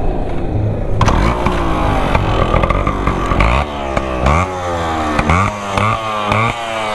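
A Yamaha RX 135 motorcycle engine starts and revs up loud and close, its two-stroke tone rising and falling through several throttle blips over a steady idle.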